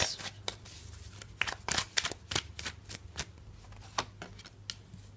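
Tarot cards being shuffled and drawn up close, a quick irregular run of crisp slaps and riffling flicks over a faint low hum, with no talk.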